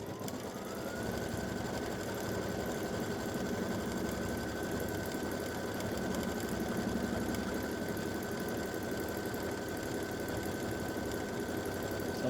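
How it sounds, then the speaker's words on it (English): Embroidery machine stitching a hummingbird quilting block, a continuous rapid mechanical whir and rattle that runs steadily and fairly loud for the whole stretch, with no talk. "So this is stitching Hummingbird Block A."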